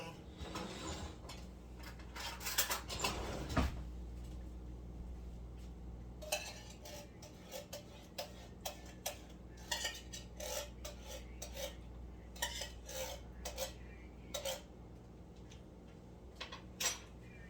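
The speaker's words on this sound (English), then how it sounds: "I'm going to go ahead and get another spoon." A spoon and other cutlery clink and scrape among pots and dishes in a home kitchen while noodles and sauce cook, a rough rubbing patch early on followed by scattered sharp clinks at irregular intervals.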